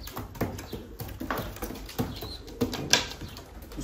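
Young tumbler pigeons stir in a coop, giving soft bursts of wing flapping and light fluttering patter with scattered faint coos, close by and uneven in rhythm.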